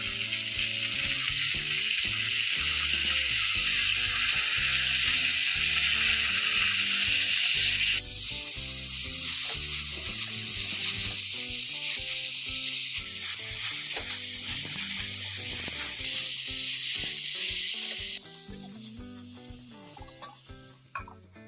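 Drumstick flowers sizzling in a hot pan, a loud bright continuous sizzle with rhythmic stirring scrapes and clinks, the frying easing in intensity partway and growing fainter toward the end.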